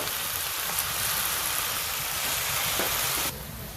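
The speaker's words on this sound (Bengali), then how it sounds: "যে পেঁয়াজটার মধ্যে এখন এই চান্দা মাছের পোনাগুলি দিব" Chanda fish fry sizzles in a pan with onion, turmeric and chili, a loud, continuous close hiss that holds steady for several seconds and then drops slightly in intensity.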